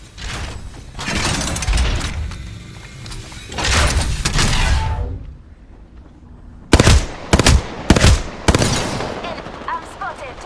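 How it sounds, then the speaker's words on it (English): Gunfire in Apex Legends while playing as Rampart: bursts of shots come in clusters, a couple of dense sustained volleys early on, then several sharp separate cracks later. No one speaks. "I'm spotted, taking fire."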